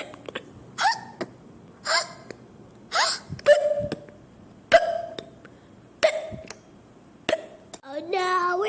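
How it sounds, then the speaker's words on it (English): Cartoon characters hiccup repeatedly in a children's animated show, with sharp, close, loud hiccups spaced about a second apart, some followed by short vocal moans and a brief squeaky voice at the end. "Oh no, we still got the hiccups."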